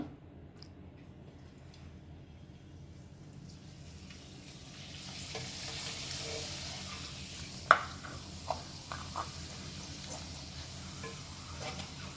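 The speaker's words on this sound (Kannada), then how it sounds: "ಇದನ್ನು ಎಣ್ಣೆಗೆ ಹಾಕ್ತೀನಿ ನೋಡಿ. ಈಗ ಕಾದಿರೋ ಎಣ್ಣೆಗೆ ಹಾಕಬೇಕು." Ragi papad made from dried ragi ball dough dropped into hot oil, with a quiet sizzle that swells partway through and a few sharp clicks near the end, no voices.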